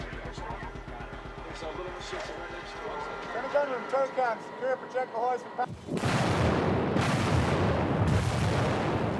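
A battleship's 16-inch naval guns fire in a Gulf War bombardment supporting coalition troops near Kuwait City. Narration runs first, then heavy, loud booming blasts roll in repeatedly and fill the rest of the clip.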